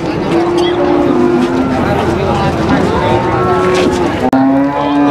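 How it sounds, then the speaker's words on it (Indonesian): Limousin cattle at a busy cattle market, with a low sustained moo rising over a dense background of crowd chatter and people talking nearby. "Ini guys ini ada sapi limusin dubel, mantep ini guys."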